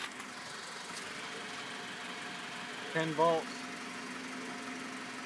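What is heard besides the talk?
push mower engine running on HHO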